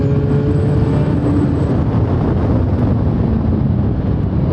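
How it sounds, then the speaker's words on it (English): Wind noise roaring over the microphone while riding a 2017 Suzuki GSX-R1000 motorcycle, a dense, steady, loud rush with no breaks. "it's a bit hard to hear myself over the wind."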